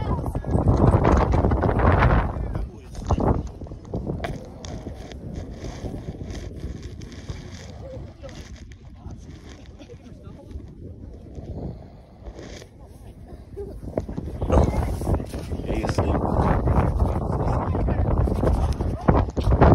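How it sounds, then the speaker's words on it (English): Heavy wind buffets the microphone at an outdoor track meet in Elgin in loud rumbling gusts, easing in the middle before roaring up again, with muffled voices underneath. "Y'all don't even know if y'all can hear me. It's so windy."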